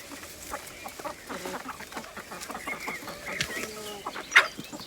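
Hens cluck in a steady, scattered chatter while pecking at fresh green grass, with sharper nearby calls and one loud squawk near the end, over a faint outdoor background.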